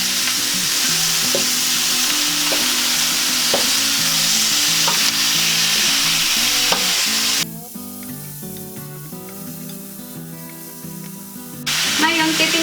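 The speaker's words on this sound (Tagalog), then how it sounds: "Haluin lang po natin." Beef for pinatuyong baka frying and being stirred in a pan: loud, continuous hissing sizzle with periodic scraping strokes, dropping briefly to a quieter hum with faint background music before the sizzle returns.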